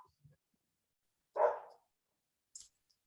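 A dog in the background gives a single muffled bark in an otherwise quiet room, followed by a faint, brief higher yip.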